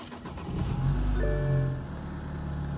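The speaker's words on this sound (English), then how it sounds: "what you're hearing there is a detuned version of the 2-liter turbocharged 4-cylinder engine" A BMW 320i's detuned 2-liter turbocharged 4-cylinder engine cranks and catches, revving up briefly before settling into a steady idle hum.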